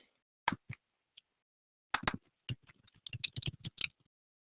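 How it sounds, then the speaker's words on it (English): Keys clatter on a computer keyboard in short, uneven bursts of typing, close and crisp, with pauses between flurries. "We still have one person typing."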